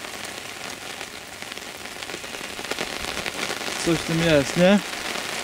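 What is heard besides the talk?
heavy rain falling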